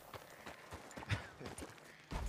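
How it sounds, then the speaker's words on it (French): Excited horses clip-clop nearby in irregular hoof knocks on hard ground, fairly faint, with a heavier flurry of thuds at the end and no clear speech. "Ah, ils sont en train de s'exciter les chevaux là."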